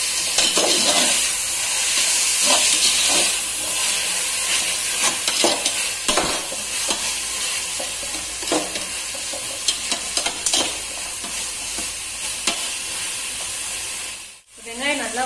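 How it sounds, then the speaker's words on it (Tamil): Mint leaves stirred into frying onions for prawn biryani give a steady, loud sizzle and hiss with scraping stir strokes, close up. The sound dips sharply near the end. "இப்ப நான் புதினா இலைய போடுறேன், ஒரு கைப்பிடி அளவு போட்டுக்கங்க."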